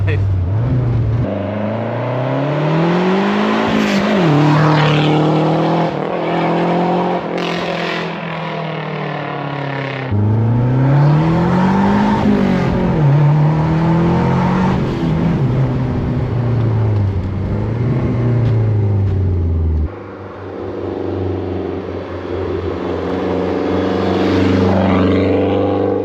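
A Lancia Delta HF Integrale revs hard and loud, with three long pulls each climbing sharply in pitch, dropping back and building again, while people talk over the engine.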